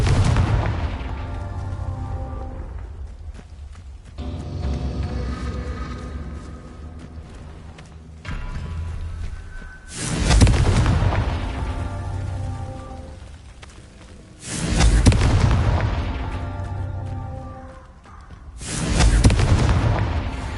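Confringo spell explosions in Hogwarts Legacy boom out as about four loud, close blasts spaced several seconds apart, each with a long crackling, rain-like decay.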